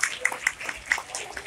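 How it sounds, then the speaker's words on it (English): A brief burst of scattered applause from spectators at a national goat show, quick sharp claps from a small group heard close and fairly quiet, with no talk over it. "Let's give them a big round of applause"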